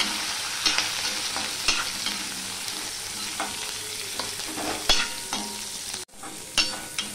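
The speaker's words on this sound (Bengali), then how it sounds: "সবার প্রথমে আমি পেঁয়াজটা দিয়ে দিচ্ছি। আদাটাও দিয়ে দিলাম, কাঁচা লঙ্কাটাও দিয়ে দিলাম। দিয়ে আমি 3-4 মিনিট মতো ভেজে নেব।" Onion, ginger and green chillies sizzle steadily in hot oil, with repeated scraping and clinking of a spoon stirring the pan.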